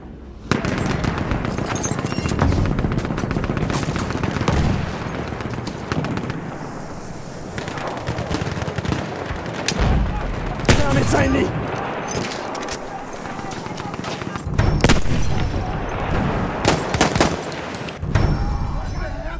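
Enemy machine gun fire in a WWI battle game on the Verdun front: dense, near-continuous rattling bursts and booming shots, with shouted voices over the gunfire throughout.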